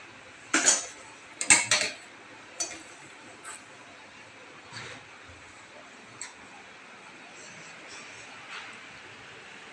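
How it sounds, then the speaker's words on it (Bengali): A kitchen being cleaned up, with a few sharp clinks of dishes and cutlery near the start, then sparse soft knocks against a quiet background. "তো কিচেনের জায়গাটা দেখো একটুখানি পরিষ্কার করবার আছে, সেটাকে এখন একটু পরিষ্কার করে নেব।"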